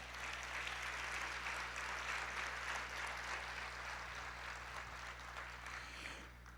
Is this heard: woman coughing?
no